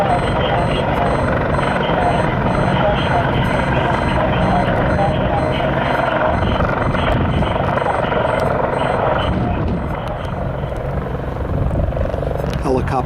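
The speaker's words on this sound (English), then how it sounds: "Helicopter taking off from a private house in Setauket." A helicopter taking off from a private house in Setauket roars loudly nearby with a heavy, continuous rotor thrum, joined by repeated high beeping tones, the engine noise shifting slightly as it lifts away.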